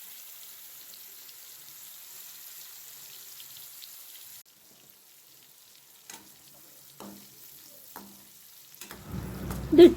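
Fish pieces dropped into about 100 grams of hot oil for Kerala-style fish pickle give a faint, steady sizzle that drops away midway, followed by a few soft clicks and a louder clatter at the end.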